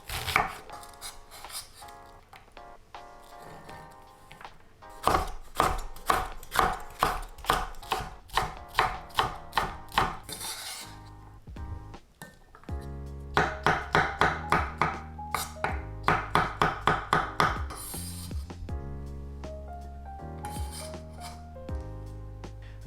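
A knife chops pizza-bread ingredients on a cutting board in a home kitchen, with close, rapid runs of crisp rhythmic strokes in bursts separated by brief pauses, under music.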